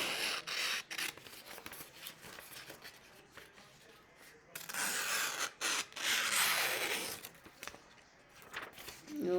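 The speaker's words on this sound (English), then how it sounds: "I'm going to cut this out on the black line on the outside" Paper worksheet being cut with scissors along a printed black outline, giving close, intermittent rasping snips in bursts with short pauses between them.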